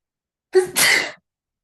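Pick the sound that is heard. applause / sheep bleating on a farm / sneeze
sneeze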